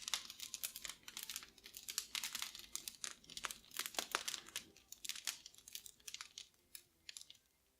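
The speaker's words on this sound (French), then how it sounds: "Le crépitement du feu dans la cheminée." Wood fire in a fireplace crackles with dense, irregular snaps and pops, faint and close, alone with no voices.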